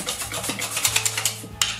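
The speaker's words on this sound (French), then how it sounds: "je racle bien les bords" A utensil scrapes and beats around the edges of a bowl of batter, giving quick irregular scratchy strokes and soft clinks at close range, with no talk.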